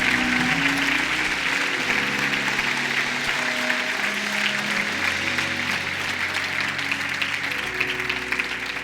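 A church congregation applauds loudly and steadily after a prayer, a dense wash of clapping with music playing underneath.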